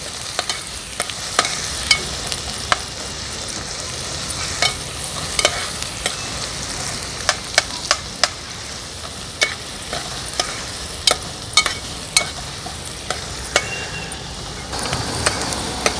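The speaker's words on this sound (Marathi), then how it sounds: "कांदा व्यवस्थित शिजवून घेऊया" Onion frying for a spicy Agri Koli style fish curry, stirred steadily with frequent spoon clinks against the pan over a constant soft sizzle, close up and without speech.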